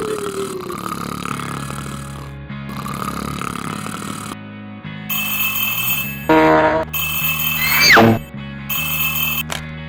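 A cartoon telephone rings in bursts at midnight, loud repeated electronic trills breaking in after a sleeping character's snoring and muttered sounds, with a sliding comic sound effect among the rings.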